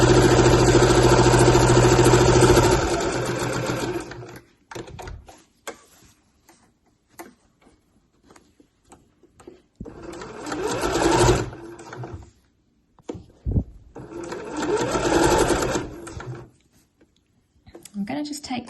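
A sewing machine stitching a bag lining, whirring in a fast, even mechanical run at the start, then stopping and restarting in two shorter bursts with quiet handling between, close up.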